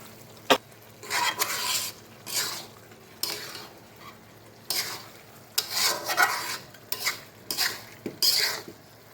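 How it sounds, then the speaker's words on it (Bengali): A spoon repeatedly scrapes and stirs goat head pieces sautéing with turmeric, salt and spices in a pan, with bursts of metallic scraping and soft sizzling between quieter pauses. "মশলা দেওয়া হয়ে গেছে, ভালো করে কষিয়ে নিব।"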